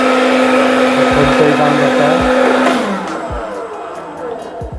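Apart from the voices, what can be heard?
hair dryer running in a hotel room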